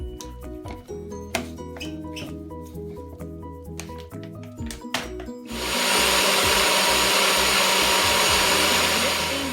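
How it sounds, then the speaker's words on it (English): Clicks and clatter, then a NutriBullet blender roars on loudly and runs steadily to the end, almonds and filtered water whirring inside. "we're going to blend it."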